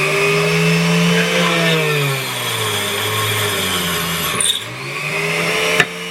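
A high-speed bench drill drilling with cutting fluid: a steady machine whine with a low motor hum runs throughout, dipping in pitch as it bites, then a brief squeal near the end; no talking.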